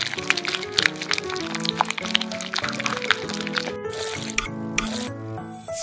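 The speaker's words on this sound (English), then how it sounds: "stir it" A spoon stirs a sticky sauce of sugar, gochujang and cooking oil, giving wet squishing and clicking sounds in a steady, uneven rhythm, close by and fairly loud, with no talk over it.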